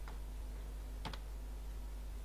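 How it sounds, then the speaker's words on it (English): A few faint, soft keystrokes on a computer keyboard, including a quick pair of taps, against a quiet room hum. "and then I'm going to type here"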